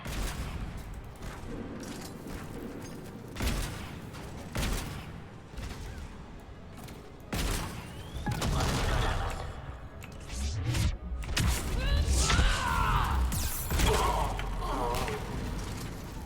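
A turret fires in Mass Effect 3, giving repeated bursts of shots mixed with mechanical clanks and booms. The firing is loud and close, swelling and fading across busy combat noise.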